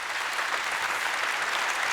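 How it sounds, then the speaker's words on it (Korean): Sustained, even applause from a seated audience greets panel speakers returning to the stage at an SBS Grand Quest reverse-ageing technology session, a broad continuous wash of clapping without speech. "다시 한번 큰 박수 부탁드립니다"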